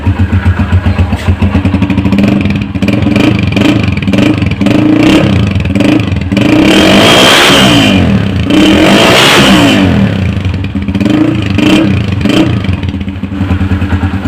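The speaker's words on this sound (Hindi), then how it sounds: "इंजन का साउंड भी आप चेक करेंगे, बहुत प्यारा साउंड है" A restored 2016 Honda CG125 motorcycle engine runs loud and close, a steady single-cylinder idle with a rhythmic thumping pulse and light mechanical clatter, rising briefly in a couple of revs, with no talking over it.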